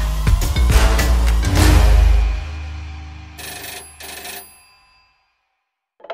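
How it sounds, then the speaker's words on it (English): A telephone ringtone rings loudly in a few bright bursts, then a shorter ring follows and it fades into silence. "Phone call for you."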